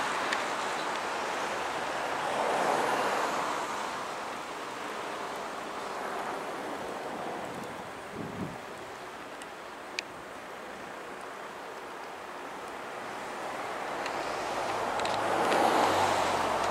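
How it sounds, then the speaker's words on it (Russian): Wind blows snow across an open rural setting on a winter evening, a steady broadband rushing that swells louder near the start and end, with a few faint thumps in between and no voices. "Снег слетает. Ветер там."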